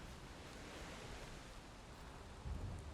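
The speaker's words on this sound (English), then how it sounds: "Oh, and I notice our storm is back as well." Steady thunderstorm ambience in the survival game Valheim, a broad roaring wash of rain and wind with a low rumble swelling near the end, no voices.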